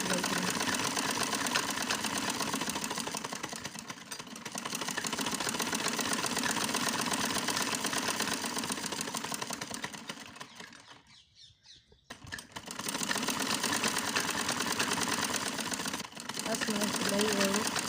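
Sewing machine stitching the seat seam of an Afghani salwar, a close, rapid mechanical whirring run that stops briefly near the end and then starts again.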